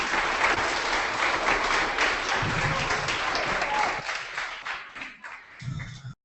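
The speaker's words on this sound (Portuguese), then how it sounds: "salva de palmas para eles." Sustained audience applause at a photojournalism workshop, many hands clapping steadily at fairly loud volume, then thinning and fading out toward the end.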